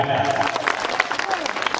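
An audience at a Navratri festival comedy event in Kurduwadi gives brief scattered applause, the clapping fairly faint and mixed with crowd voices.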